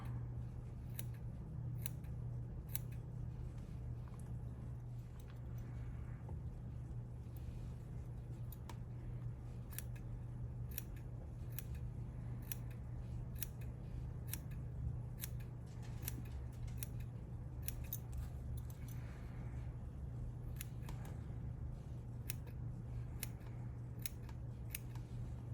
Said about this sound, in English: my curved embroidery scissors to have a little more control